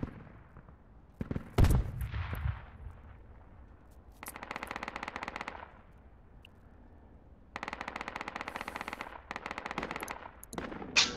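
Automatic weapons fire in a first-person shooter video game: two long sustained bursts of rapid machine-gun shots, loud and close, with a sharp impact before them and quiet gaps between.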